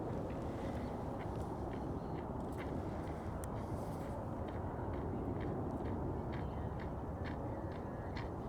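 Ducks quack with scattered bird calls in the distance, faint and steady over broad outdoor background noise in the early morning.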